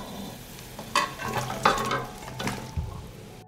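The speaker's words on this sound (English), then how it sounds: "The marinade has boiled and I put the pepper in the boiled marinade." Peppers simmer in a boiling marinade in a pot, a soft bubbling sizzle with a few sharp clatters and splashes from stirring, fairly quiet and close.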